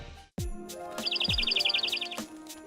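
A small bird gives a quick run of high, bright chirps in a rapid even series, near and clear, set among a few soft knocks and bumps indoors.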